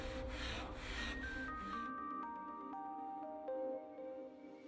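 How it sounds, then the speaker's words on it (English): Scouring sponge scrubbed over a Blanco Silgranit PuraDur sink with water and washing-up liquid, a close steady rasping rub that continues throughout, with a soft instrumental tune running underneath. "Stains and signs of daily use can easily be removed with a scouring sponge, water and a little washing up liquid."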